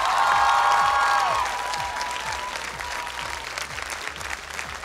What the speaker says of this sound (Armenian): ծափար ենք երեխաներին